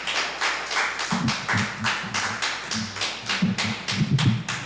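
Audience at a comedy night clapping for a comedian at the Clearbrook Center of the Arts, a close, brisk run of hand claps with uneven rhythm and no talking.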